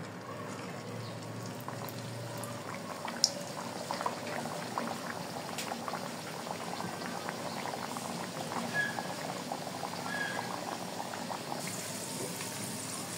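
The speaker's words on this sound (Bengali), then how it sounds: "এখন পুরি ভাজার জন্য আমি এখানে একটা কড়াইতে তেল দিয়ে দিয়েছি, একে একে পুরি ভেজে নিচ্ছি" Potato puris deep-fry in hot oil in a wok, giving a continuous soft bubbling and crackling hiss with a few sharper pops, quiet and alone.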